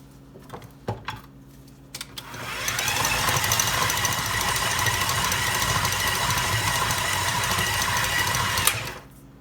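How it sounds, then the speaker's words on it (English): An electric mixer creams butter for peanut butter cookies: a few clicks, then a steady, fairly loud whirring motor drone starts, runs for about six seconds and cuts off, with no talking. "you need to restart your mixer and cream it a little bit better"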